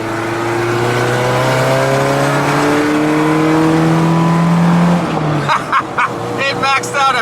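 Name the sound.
1994 Ford Ranger with nitrous accelerating in second gear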